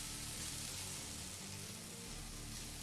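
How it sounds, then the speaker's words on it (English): Food fries in a pan with a faint, steady, hissing sizzle that runs continuously without breaks, with no talking. "that's now frying off nicely."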